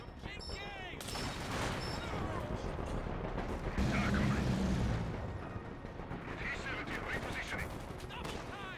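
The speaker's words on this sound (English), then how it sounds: "Man, that mortar is hitting me." Mortar blasts and dense gunfire rumble through a Company of Heroes 2 battle as Soviet forces fight, a continuous loud barrage with heavier booms swelling in the middle.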